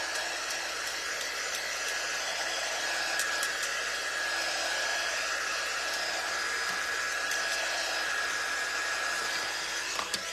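A hair dryer blows steadily on wet antique wax and white paint coated on wood, giving a continuous close whir with a thin whine that runs unbroken for about ten seconds, with no voices.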